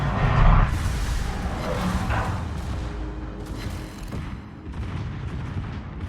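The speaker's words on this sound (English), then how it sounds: "Secondaries going on 2 ships off my port rail." Secondary guns of warships in a naval video game fire in continuous rolling booms and rumbling blasts, loud and dense throughout with no pause.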